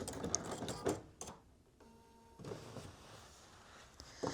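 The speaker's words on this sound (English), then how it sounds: "I'm just going to sew that in place here, right along that seam." A home sewing machine stitches along a skirt seam, a quiet steady whir with brief mechanical clicks, short bursts of running separated by pauses.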